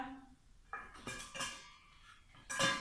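Coconut milk and sugar are stirred in a rice cooker pot for sticky rice, with a spoon clinking and scraping against the metal a few times at an uneven pace, quiet and close, and no voices.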